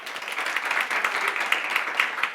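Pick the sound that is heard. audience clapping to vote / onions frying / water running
audience clapping to vote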